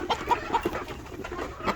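A hen pesters another hen that is brooding on a clutch of eggs. It clucks in short, regular close pulses, with soft coop noise between them.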